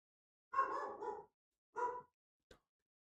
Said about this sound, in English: That dog is so doomed.